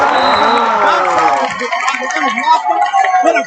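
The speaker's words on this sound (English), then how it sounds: "That gets the crowd going." Crowd cheers and shouts at a high school junior varsity boys' basketball game after a great defensive play, a loud burst of voices and clapping that peaks at once and then eases into a lower, ongoing murmur of chatter.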